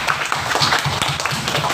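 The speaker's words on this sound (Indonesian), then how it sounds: "coba beri tepuk tangan untuk kalian" A group claps together after an icebreaker game, a brief burst of dense, fairly loud, close applause.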